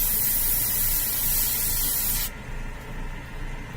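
A steady, close hiss of spray paint coats a Batman prototype build, then cuts off partway through, leaving a quieter room hum.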